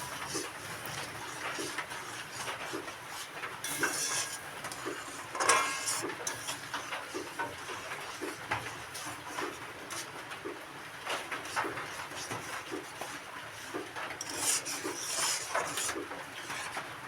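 Ingredients for a ripe mango recipe are stirred and mixed together in a bowl, with soft scraping and occasional light clinks of a utensil against the bowl, fairly quiet and close, and no talking.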